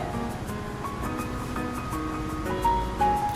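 Continuous roaring rush of heavy water released through opened dam gates, loud and steady, with a faint tonal hum in the background.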